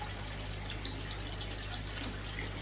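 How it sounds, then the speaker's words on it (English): Water runs steadily in a DIY moving bed filter, a faint continuous trickle and splash with a constant low hum beneath it and no talking. "You can hear water running here"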